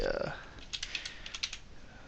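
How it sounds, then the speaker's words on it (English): A short burst of quick computer keyboard keystrokes, clicking unevenly and close by, following a brief bit of speech. "As you can hear me typing it"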